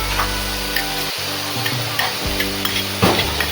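Tiny dried kolim shrimp sauté in a pan alongside leftover rice, a steady soft sizzle with occasional light ticks and scrapes of stirring.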